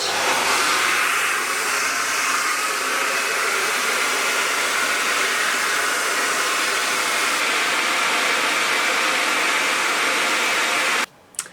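A hair dryer blows steadily on low heat over curly hair, a constant close whooshing hiss that lasts nearly the whole time, then cuts off abruptly right at the end.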